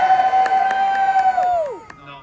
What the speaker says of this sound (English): I want to hear a big loud cheer for the Trebuchet winders so they know we appreciate what they're up to.